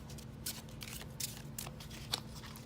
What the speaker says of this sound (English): you can see it's just super to shuffle